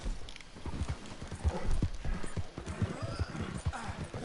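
Horse hooves clip-clopping in a steady rhythm with a short neigh, from a horse in a video game, loud and close with no talking over it.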